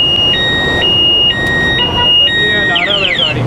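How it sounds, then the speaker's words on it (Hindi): A car anti-theft alarm on a small rickshaw cycles through loud alternating electronic tones, then shifts into rapid warbling chirps, with a steady noisy background beneath. "ये गाड़ी का अलार्म है"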